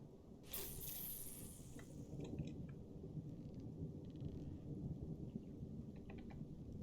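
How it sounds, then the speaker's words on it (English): A thunderstorm in the fishing video game Russian Fishing 4, with steady rain hiss throughout and a faint thunder crack near the start, all quiet and distant. "It's nice and stormy,"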